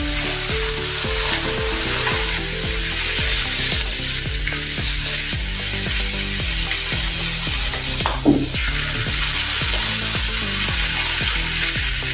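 Bhindi (okra) dropped into hot oil, a loud, dense sizzle crackling continuously with a brief scrape midway, close up and with nobody talking.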